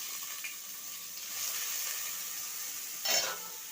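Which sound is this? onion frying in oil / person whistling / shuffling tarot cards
onion frying in oil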